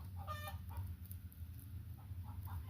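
A hen clucks softly after laying an egg, a few short bursts of clucks over steady low background hum, faint and somewhat distant.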